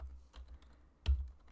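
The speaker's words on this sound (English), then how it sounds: "So I'm going to begin by typing Control and Spacebar" A few light key taps on a computer keyboard as Control and Spacebar are pressed, with one sharper final click, close and quiet with no voice.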